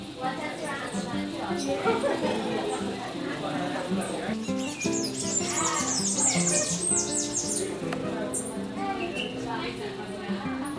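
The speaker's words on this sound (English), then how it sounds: "These are some of the more gorgeous bird varieties in Trinidad." Birds at feeders in Trinidad chirp and squawk in a busy, continuous chorus of high calls while someone talks over them throughout.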